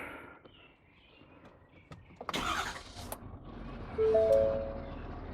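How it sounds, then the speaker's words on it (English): A 2019 Ford F-250 Limited diesel truck starting up: a quiet cab, then a brief crank and the engine catching into a low, steady idle, with a faint whine and chime over it. "I can actually just fire it up for you."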